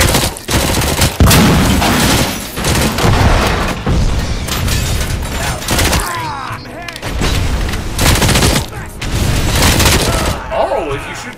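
Rapid gunfire bursts and heavy grenade blasts from the Robocop Rogue City video game, loud and near, with booming detonations breaking up sustained shooting throughout.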